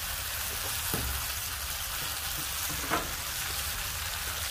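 Vegetables sizzle in olive oil inside a cast iron wok set on a Weber kettle grill, a constant close hiss with a couple of soft stirring knocks.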